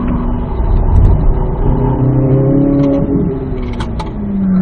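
A car engine on a race track during a cool-down lap hums loud and close from inside the cabin, its pitch drifting gently up and down as the pace eases, with no talking.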